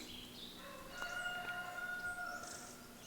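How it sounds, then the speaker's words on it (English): A rooster crows once in the distance, a long drawn-out call over a steady outdoor hiss. "listening to our neighbor's roosters."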